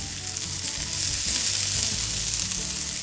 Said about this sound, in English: In goes my onion.